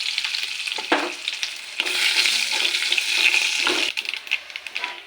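Mustard seeds, cumin, urad and chana dal with dry red chillies fry in hot oil, a loud continuous sizzle with crackling pops and a few clinks of stirring.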